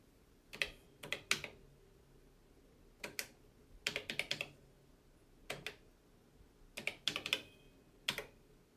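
Keys pressed on the keyboard of an early Commodore electronic calculator, sharp clicky taps arriving in quick bursts of two to five with short pauses between, close and clear without talk.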